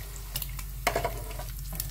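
Balado chili spice paste being stir-fried in a pan for a sweet-spicy tongkol tuna dish: a steady soft sizzle with scraping stirs and a few sharp utensil clinks, close up, no voices.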